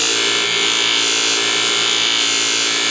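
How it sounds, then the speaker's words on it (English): Scissor shear blade pressed against a power polishing wheel running at about three-quarter speed, a loud, steady whirring grind that holds constant throughout with no talking. "I'm rolling over more of the blade to get a lot of the polish over"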